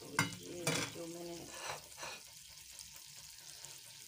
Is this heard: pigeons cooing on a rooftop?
no